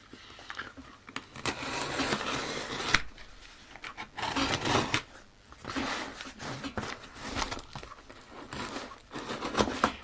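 A parcel ordered from eBay is unpacked in a workshop, with close rustling and crinkling of packing paper and cardboard, irregular bursts of handling and short pauses.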